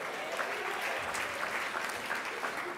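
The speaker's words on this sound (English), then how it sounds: "You guys are just having fun clapping. You're just clapping." A banquet audience claps continuously, dense and steady applause filling the room from start to finish with no break.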